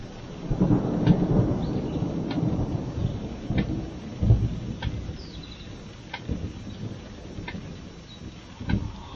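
Thunder in a severe thunderstorm: deep rolling rumbles swell and fade several times over steady rain, with sharp crackling strikes scattered throughout.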